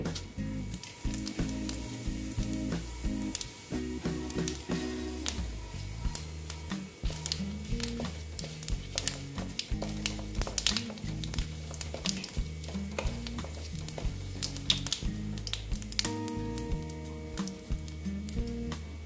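Bay leaf and white cumin sizzling in hot oil in a pan, a continuous crackling fry with frequent sharp pops and spatters, close and fairly quiet, with no talking.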